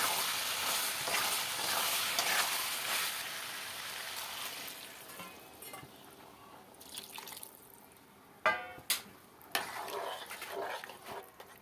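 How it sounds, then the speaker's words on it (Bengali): Peas stirred into browned meat in a pan give a soft sizzle and scraping that fades out, then water is poured in, followed by a few short clattering knocks and drips near the end. "এবার আমি মটরশুঁটিগুলো দিয়ে দেবো, দিয়ে হালকা একটু নেড়ে জল দিয়ে দেবো।"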